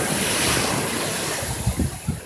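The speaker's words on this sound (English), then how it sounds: "Here we are at the Atlantic Ocean" Atlantic Ocean surf on a beach on a summer day, a broad continuous wash of breaking waves with wind buffeting the microphone, and a few low rolling surges near the end.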